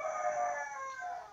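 A rooster crows once at a distance, a faint drawn-out call fading away, with no other sounds around it.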